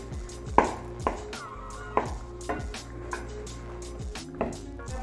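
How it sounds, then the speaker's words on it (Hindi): Tomatoes are mashed with a spoon in a pan of oil, giving a series of sharp, moderately loud knocks and squishy scrapes that repeat at an uneven pace, with no talking. "अब इन टमाटरों को मैं चम्मच की मदद से अच्छी तरह मैश कर लूँगी"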